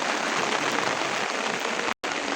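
Heavy monsoon rain pours over a street lined with shops, a dense, even hiss of drops hitting surfaces, close and continuous apart from a brief cut near the end.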